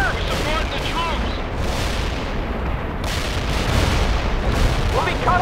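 Gunfire and artillery booms in the real-time strategy game World in Conflict, during a battle in a city, continuous rolling blasts and shots with shouted voices over them.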